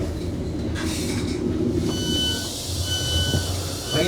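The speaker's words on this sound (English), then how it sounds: "we are on a 156 on the West Coast Main Line." A Class 156 diesel multiple unit runs on the West Coast Main Line, heard from inside as a steady rumble with wheel squeal and faint rail clatter, no talk.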